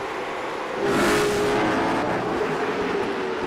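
Race cars pulling away on a restart at New Smyrna, a steady roaring blend of engines that swells after a moment and holds, heard from a distance with no voices.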